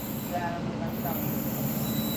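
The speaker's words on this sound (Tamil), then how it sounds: "ஆக்சுவலாக இது எது வழியாக போகுதுன்னு தெரில அந்த ட்ரெயின்" A train rolls past at a distance near Jolarpettai, a steady low rumble with faint squeals of wheels on rail rising now and then over it.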